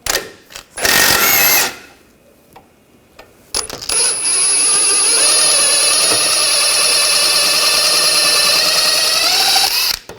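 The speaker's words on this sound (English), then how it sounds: "18mm wrench. Take this nut and bolt out." A ratchet and tools at work on the rear lower ball joint of a 2000–2006 BMW X5, with sharp metallic clicks at first, then a long steady whirring buzz from a power tool spinning the nut off.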